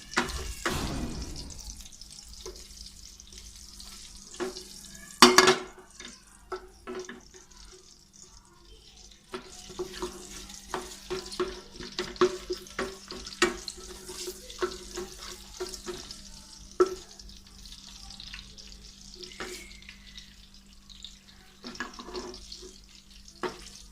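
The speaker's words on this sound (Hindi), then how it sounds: "ये देखिए इसको थोड़ा थोड़ा फ्राई करना है मिर्चों को।" Red and green chilies frying in hot oil give a steady sizzling crackle, with one sharp loud clatter early on and scattered utensil scrapes and stirring clinks throughout, no voices.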